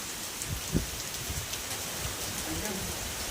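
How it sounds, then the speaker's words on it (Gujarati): Steady rain patters on a surface as a soft, even hiss, with a few low thumps and gusts underneath. "આવો વરસાદ ચાલુ થઈ ગયો"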